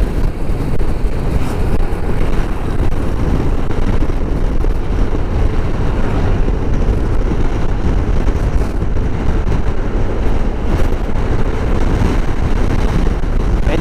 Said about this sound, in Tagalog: Medyo mahangin no?